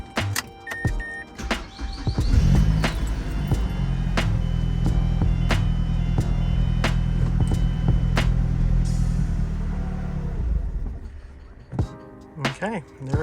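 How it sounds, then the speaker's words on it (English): A Mazdaspeed 3 with a 2.3 engine and its fuel pump fuse pulled is cranked and runs with a steady low drone for several seconds before sputtering out, with clicks and handling noises around it. "start the car until it runs and dies"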